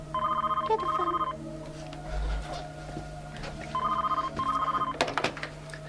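An old-style telephone rings indoors in two clear double-burst trills separated by a pause, loud and close over a steady low background hum, with no voices.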